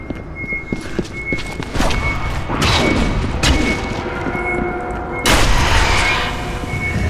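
Shotgun blasts in a video game ring out as several loud booming shots among rapid clattering game effects, with a couple of heavy reports standing out and no talking.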